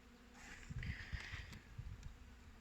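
Honey bees buzzing around small beekeeping hives, a steady near drone with brief louder swells, no talking.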